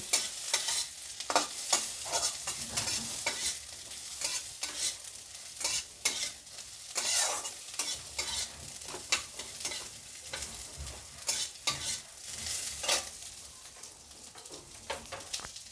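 Onions frying in oil for homemade chilli chicken, stirred repeatedly with a spoon, giving a busy run of scraping clatters over a constant sizzle, close by and with no talking.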